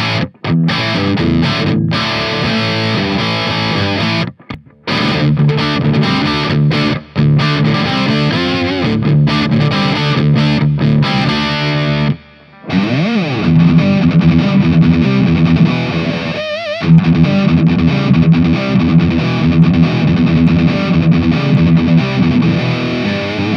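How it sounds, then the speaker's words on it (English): Heavily distorted high-gain guitar through an all-tube micro amp plays chugging riffs and sustained chords, loud and saturated, with a few brief pauses between phrases. "a fast combination of distortion and crunch tones from mild distortion to over-the-top high gain"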